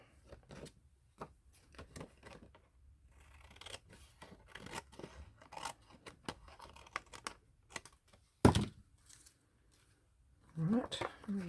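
Scissors snipping the end off paper while decorating a junk journal cover, a series of small close crisp cuts and rustles at a quiet level, with one sharper snap near the end.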